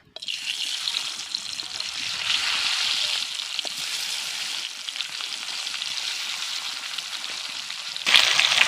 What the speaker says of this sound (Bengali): এবার আমি মাছগুলোকে দিয়ে দেব